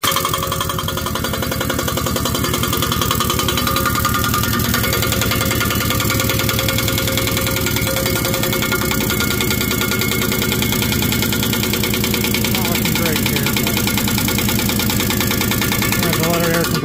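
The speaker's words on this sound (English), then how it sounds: "Compressor kick on and build up air." An air compressor kicks on during a repair job and builds up pressure, a loud, steady mechanical drone with a rattling engine-like texture that runs continuously throughout.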